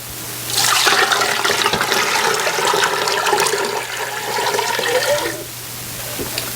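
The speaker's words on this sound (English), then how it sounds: "I've got to add more water" Water rushing steadily into a pot for canning spicy candied jalapeños, a loud, full gushing pour lasting about five seconds before tapering into a quieter trickle, with no talking.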